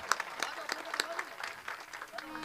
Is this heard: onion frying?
no